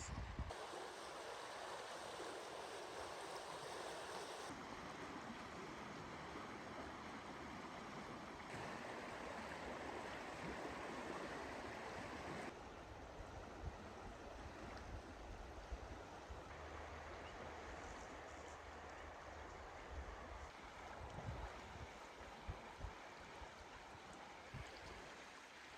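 The lower Deschutes River flowing along a trail shoreline, a steady broad hiss of moving water heard for a long stretch, constant in level apart from a few soft knocks, with no talking.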